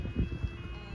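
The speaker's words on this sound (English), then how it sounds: "That alarm's very faulty because it used to sound very different." A faulty level crossing alarm at Common Lane in Somerset sounds as a thin, steady electronic tone heard from some distance over low rumbling background noise, with no talk.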